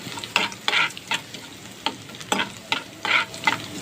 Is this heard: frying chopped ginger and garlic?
yes